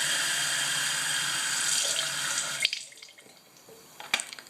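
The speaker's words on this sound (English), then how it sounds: "you open this little compartment there, fill it with water." Tap water runs steadily into the small reservoir of a Waterpik cordless water flosser, a close, hissing fill that cuts off partway, followed by a few light plastic clicks and taps.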